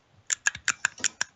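A desk stapler clicks about seven times in quick succession, sharp and close, with no talking.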